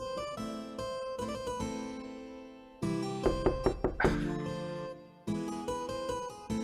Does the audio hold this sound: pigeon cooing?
no